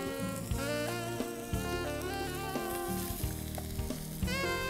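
Potatoes with their skins on start frying in a pan, giving a steady sizzle throughout that sits beneath prominent background music.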